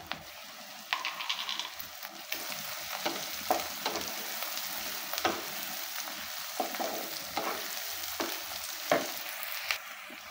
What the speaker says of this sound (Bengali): এগুলো এখন একটু হালকা করে ভেজে নিতে হবে।